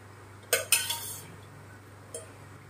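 A metal wok set down on a stove: two sharp clanks close together, then a lighter knock a moment later, over quiet room hum.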